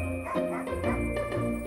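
A dog gives a few short, yippy barks in quick succession, close and clear, with some whining tones between them.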